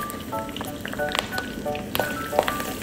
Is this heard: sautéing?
yes